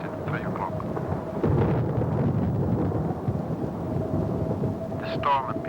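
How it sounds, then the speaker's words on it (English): A rolling rumble of thunder from a vertical lightning discharge in a storm, swelling midway and then holding steady under wind noise and a faint engine drone, with brief voice-like sounds near the end. "A vertical lightning discharge at 3 o'clock."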